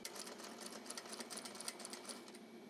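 A Juki DDL-8700 industrial sewing machine with a servo motor runs at close range, a quiet, rapid and even rhythmic stitching patter that continues steadily throughout.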